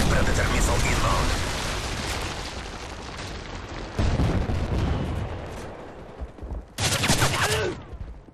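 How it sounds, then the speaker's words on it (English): A Predator missile strike in Modern Warfare 3 team deathmatch on the Downturn map: heavy booming blasts roll out amid scattered gunfire, with a final loud explosion near the end. "Friendly Predator missile inbound."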